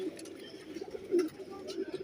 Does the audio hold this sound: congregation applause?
no